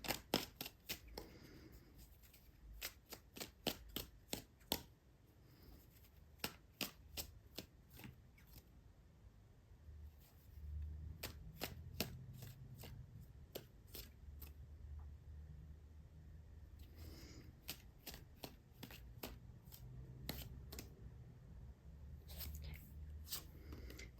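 Tarot cards shuffled and drawn during a reading, heard as many crisp, close riffling snaps and flicks in irregular bursts against a quiet room.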